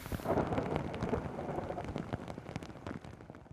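Rain falling steadily on surfaces, a dense patter of drops with a low rumbling undertone throughout.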